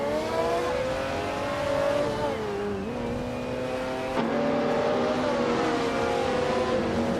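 Race cars roaring around a track, led by a 1999 Mercedes-Benz CLK GTR, their engines a loud, continuous layered drone with pitch shifts as they rev, shift and accelerate, no voices over them.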